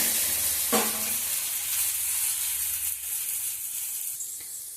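Spicy Tamil adai dosa cooking on a hot griddle, giving a close, steady sizzle with a brief clatter near the start and faint scraping later.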